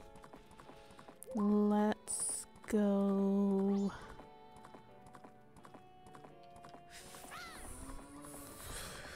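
Horse hooves clip-clopping as Epona is ridden in a Zelda video game, with loud game music tones and a whinny midway; a voice speaks briefly over the steady hoofbeats.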